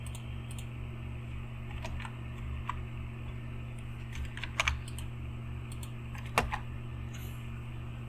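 Computer keyboard during firmware dumping work, a few scattered close key clicks and taps over a constant low electrical hum, with no talk.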